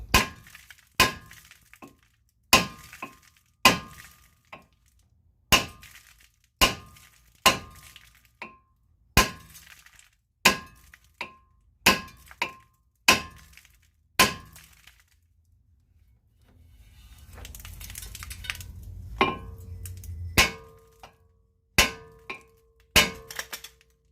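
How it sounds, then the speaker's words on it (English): Sharp metallic hammer blows on a stuck car brake rotor ring out one after another in a steady rhythm, pausing briefly for a low rumbling noise before the banging resumes. "I go back to the hammer and I just want to keep banging it."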